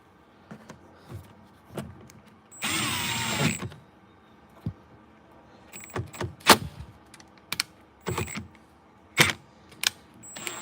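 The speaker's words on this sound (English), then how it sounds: "time to put the screws back on" Power drill driving screws back into a door panel of a 1998-2003 Dodge Durango: one steady whirring run of a few seconds, then scattered close clicks and clatters of handling and fastening, with no talking.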